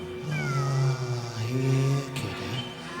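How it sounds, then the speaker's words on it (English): A cat in a 1998 Halloween audio drama meows loudly and close, a long drawn-out, wavering cry followed by a shorter second call, with faint background ambience. "At that moment, the good doctor's cat crossed the threshold of the front door."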